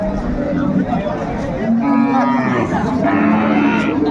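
A cow mooing at a rural cattle market in Dinajpur, with loud, drawn-out calls close by over a background of crowd chatter and voices.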